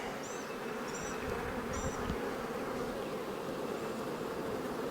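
Steady, dense buzzing of many honeybees close by during a hive inspection as bees are shaken off frames, continuous throughout, with a few faint high chirps above the hum.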